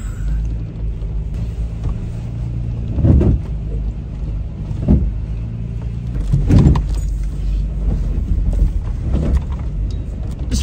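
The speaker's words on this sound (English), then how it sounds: "There's a lot of scraping noises coming from Oma" A stock vehicle crawls over rough Baja terrain, its low rumble broken by several loud bursts of underbody scraping and thumping at irregular intervals.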